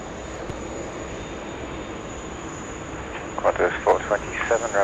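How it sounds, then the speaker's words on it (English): Airliner bound for Melbourne taxiing from the domestic apron onto taxiway Foxtrot at Sydney Airport, a steady distant jet whine and hum, with a person speaking over it toward the end. "this is a flight off to Melbourne, just coming on out of domestic apron and onto Foxtrot."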